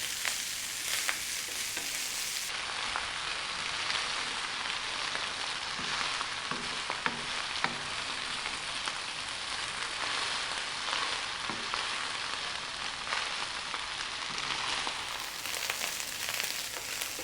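Cold cooked rice and potato being stirred and fried in a pan, with a steady close sizzle and soft scraping of the spoon throughout.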